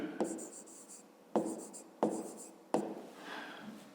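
Pen writing on paper for a fifth-grade math exercise: four close bursts of scratchy strokes, each starting with a tap and trailing off, with brief pauses between them.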